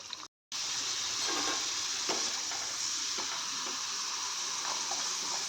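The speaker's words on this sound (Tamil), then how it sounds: "இதை நாம் எண்ணெயில் தான் இப்போ பொரிச்சு எடுக்க போகிறோம்" Slices of elephant foot yam frying in oil on a stove at medium flame, a steady bright sizzle with faint crackles and pops, close and continuous after a brief dropout at the start.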